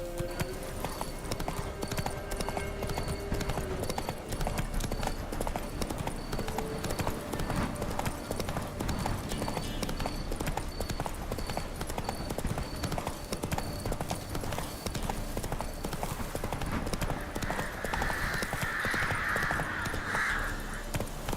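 Horse hooves clip-clop steadily throughout in an outdoor setting, with faint crow-like caws and bird calls in the background and a few urged-on shouts from riders.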